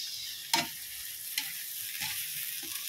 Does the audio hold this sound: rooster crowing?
no